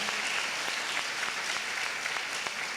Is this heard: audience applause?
yes